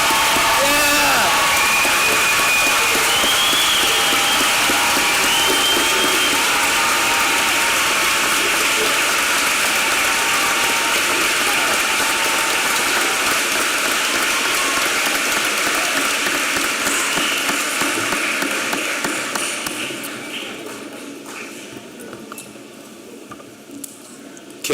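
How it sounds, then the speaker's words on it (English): A large audience at a high school graduation ceremony applauds in a sustained wash of clapping that fills most of the stretch, then fades and thins out toward the end, with faint crowd noise underneath. "let us show our appreciation and gratitude with another round of applause."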